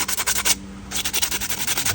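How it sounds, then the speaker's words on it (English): A wooden topwater lure body being hand sanded, with loud close rhythmic rasping strokes and one brief pause midway. "now we're going to sand forever some more"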